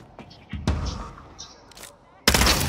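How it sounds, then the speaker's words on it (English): Several sharp gunshot-like bursts crack out amid a busy vampire battle royale game soundscape, the loudest arriving near the end, with faint background voices underneath. "There are so much gunshots."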